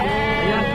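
A goat at a livestock market gives a loud, close, wavering bleat that fills the moment, with busy market noise underneath.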